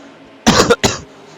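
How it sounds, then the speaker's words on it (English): A person with a cold gives a short burst of two close, loud coughs, up near the microphone, with quiet room tone before and after. "Sorry about the cough."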